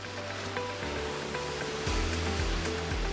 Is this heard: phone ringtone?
no